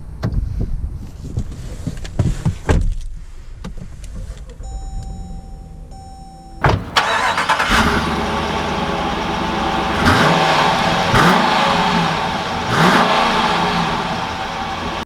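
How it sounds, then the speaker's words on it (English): A 2020 Jeep Grand Cherokee Summit starts with a short crank, then its engine settles into an idle and revs as it pulls away, with faint clicks and cabin noises first and a steady rising drive sound afterward. "let's take this 2020 Summit out to see how it drives"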